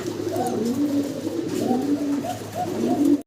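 Pigeons coo close and loud in a steady, overlapping run of throaty rolling calls that lasts the whole moment and ends abruptly. No voices are heard.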